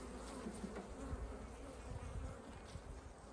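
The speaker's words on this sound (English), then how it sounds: "look at all these bees in here, on all these frames, and all these frames here is the brood nest" Honeybees swarming over brood frames in an open hive during a spring inspection, a dense steady hum with scattered close wing buzzes drifting past, fairly soft and without speech.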